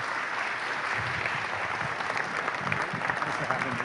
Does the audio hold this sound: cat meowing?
no